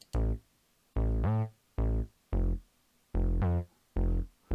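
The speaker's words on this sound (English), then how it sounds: "So that is our bass sound, and in the track it sounds like this." Synth bass preset built in Reason's Europa synthesizer, punching out short, deep notes in a bouncy track pattern with audible portamento glides between some pitches, loud and close with no voices.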